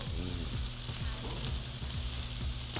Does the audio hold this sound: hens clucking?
no